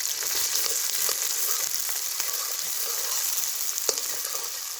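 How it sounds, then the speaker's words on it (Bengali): Onions frying in hot oil for a village-style Kolkata mutton biryani, a steady dense sizzle and crackle close by, with occasional louder pops and no talking. "আমরা মাংস রান্না করার জন্য পেঁয়াজটা দিয়ে দিচ্ছি এবার তেলে।"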